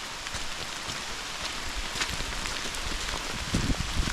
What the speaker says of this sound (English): I was prepared for the rain.